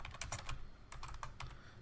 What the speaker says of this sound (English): if I just keep typing it